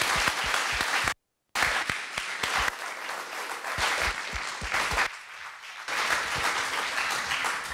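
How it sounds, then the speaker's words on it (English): An audience applauds poet Robert Pinsky and his jazz band at a Wamfest poetry-and-jazz event. The clapping is full and sustained, with a brief cut to silence early on before the applause resumes and carries to the end. "One more round of applause, please, for Robert Pinsky"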